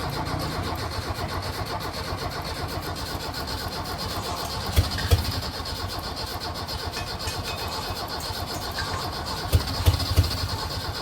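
An Audi RS7 engine turns over and runs, a steady mid-pitched mechanical drone with a few short louder bursts near the middle and toward the end, heard close up with no voices over it.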